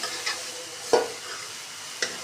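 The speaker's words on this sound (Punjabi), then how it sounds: "ਫਰਾਈ ਕਰਨ ਲੱਗਿਆ" Food fries in a pan on a gas stove, a soft sizzle broken by a few brief stirring clinks and scrapes, close and fairly quiet, with no talking.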